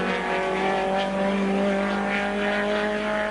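A BMW touring car from the 1987 World Touring Car Championship race at Silverstone drones loudly past with a sustained, buzzing engine note that stays near and steady throughout.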